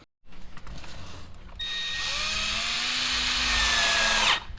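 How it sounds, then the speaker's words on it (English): A power drill pre-drilling screw holes in an Acura MDX during a subwoofer install whines steadily at close range, its pitch rising as it spins up and bores, then cutting off abruptly. "I'm going to pre-drill my hole"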